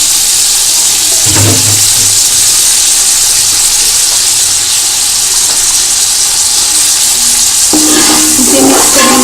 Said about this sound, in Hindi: और चम्मच हिलाएंगे ताकि अच्छी तरह मिक्स हो जाए